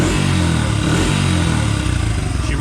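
A Honda CRF80F dirt bike engine running on a newly fitted carburetor, a steady, loud, close-up putter with a fast even firing rhythm and no talk.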